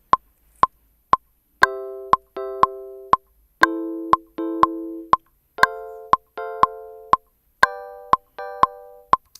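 A short MIDI melody recorded in Logic Pro plays in clean, plucky synth notes over a steady metronome ticking at an even beat, with both heard clearly and with nothing else around them.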